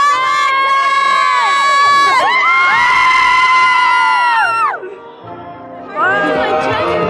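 A close-up group of people shrieks a graduate's name at a graduation ceremony, with long, high, drawn-out screams rising together, a short pause, then another burst of yelling.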